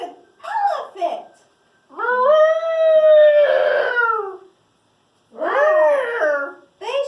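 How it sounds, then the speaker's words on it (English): Elephant trumpeting in a children's nature story, heard as several loud, wavering, brassy calls in separate bursts with short pauses between them, clear and close. "It's an elephant."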